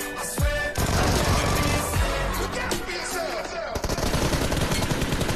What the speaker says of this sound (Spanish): cuando escucha que le están disparando a su compa